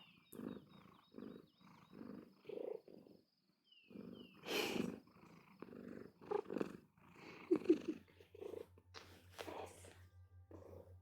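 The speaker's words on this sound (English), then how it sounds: "Can you hear her purr?" A pet cat purrs close to a microphone in rhythmic pulses, while someone talks softly to her in between.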